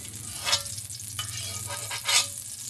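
Steady sizzling of food frying in a hot pan, with a couple of brief louder crackles and stirring scrapes, no talking.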